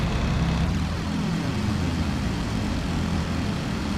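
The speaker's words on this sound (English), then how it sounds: "12 Ju-88s of KG-76 to Staffeln begin to form up. Groups of 3 aircraft." Junkers Ju-88 bombers forming up in groups, a loud continuous drone of piston aircraft engines with a faint sweeping pitch shift as the planes pass.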